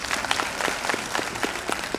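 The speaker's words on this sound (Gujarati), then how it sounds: "તો તાળીઓના ગડગડાટથી એમના ઉત્સાહમાં વધારો કરશો." Applause from the audience at a school annual function, a steady patter of many hands clapping at moderate distance, even and continuous throughout.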